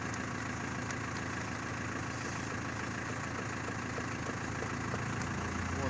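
A Foton 1069 truck diesel engine with a mechanical speed governor runs close by, a steady, dense mechanical rumble that edges up slightly in intensity over a few seconds.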